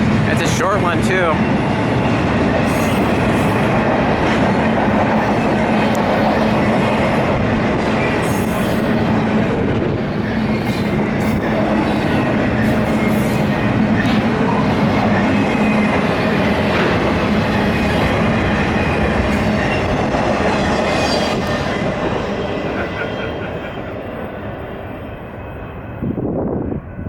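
A westbound BNSF intermodal freight train rolls slowly through curves by Route 66 at Flagstaff, its steady rumble, wheel clatter and occasional squeal loud and close throughout, easing off near the end as the last cars pass.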